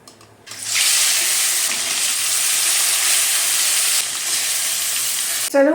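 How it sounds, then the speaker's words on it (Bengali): Fish fries in a pan with a loud, bright sizzle that flares up after a quiet start and holds steady, hissing like steam. "মাছটা এখন আমি একটু ভাজা করে রাখি"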